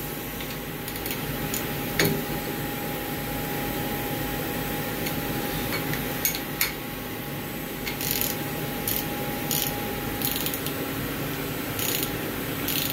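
An endmill holder being tightened in a Hurco VM20i CNC mill gives sparse metallic clicks and ratcheting ticks, close by, over a steady machine hum.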